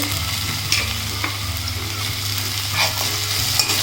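Tomatoes sautéing with reddened fried onions in a pan, a loud continuous sizzle with stirring scrapes and a low steady hum underneath, close with no voices.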